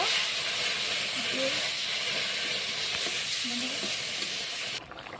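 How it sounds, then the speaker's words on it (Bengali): Spice masala sizzling in a pan as water is poured in, a loud steady hiss and steam throughout that cuts off near the end, no talk. "এই যে কষানো করে একটু জল দিয়ে দিচ্ছি, জল দিয়ে ভালো করে কষিয়ে নিব।"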